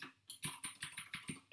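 Computer keyboard typing while setting up a second YouTube channel, a quick run of about seven close, crisp key clicks in an even rhythm after a brief silent start.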